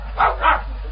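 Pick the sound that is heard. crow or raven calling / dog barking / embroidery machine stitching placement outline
dog barking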